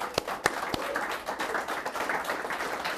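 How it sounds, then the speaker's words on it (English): A studio audience on a talk show claps to welcome a guest, a few loud close claps at the start followed by steady, moderate applause throughout. "Give him a round of applause, everybody"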